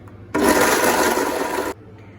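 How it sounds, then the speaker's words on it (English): A blender whirring through cashews and water for a recipe, a loud, steady grinding roar that starts abruptly, holds for over a second and cuts off sharply. "we're gonna give it a whirl here in the blender"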